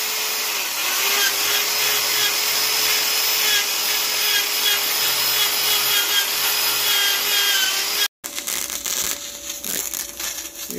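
A grinder cuts and shapes the exhaust tailpipes on a Ford Mustang with a loud, continuous abrasive whine. It stops abruptly, then harsher scraping and rubbing tool noise follows up close.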